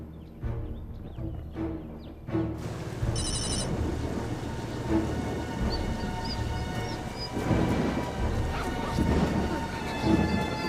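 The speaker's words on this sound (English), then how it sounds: "The storm is headed straight for us." Rolling thunder from an approaching storm rumbles steadily and fairly loudly throughout, with a brief ringing tone near the start and no voices.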